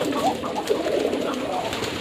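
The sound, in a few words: pigeons cooing on a pigeon farm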